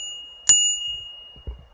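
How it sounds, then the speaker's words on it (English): A single bright ding from the handlebar bell of a Bodywel A275 step-through e-bike, close and clear with a lingering ring, followed by a soft low thump. "we have a bell"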